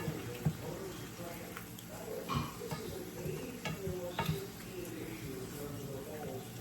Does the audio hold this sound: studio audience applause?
no